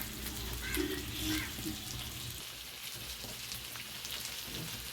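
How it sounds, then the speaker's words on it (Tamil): Fish frying in oil with curry leaves, a faint, steady rain-like hiss and crackle of bubbling oil that continues evenly throughout, with a voice faintly audible early on. "மீன் பொரியும் போது ஒரு வாசனை இப்போ அந்த கருவேப்பிலை சேர்த்து பொரியும் போது"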